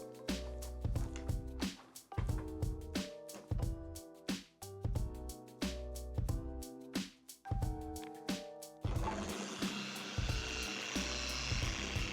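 A car polisher whirring in pulses, spinning up and down repeatedly with a steady tonal whine, then running continuously with a rougher, louder sound as the pad works on the paint.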